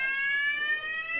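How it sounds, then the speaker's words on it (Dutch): A steady, piercing electronic alarm tone rings continuously at close range with no pauses and no voices, a hospital fire alarm in Minecraft. "Dat is het alarm, we moeten gaan"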